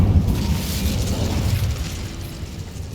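Incendio fire spell cast in Hogwarts Legacy, a burst of whooshing flame with a rumbling boom that slowly fades over three seconds, no talk.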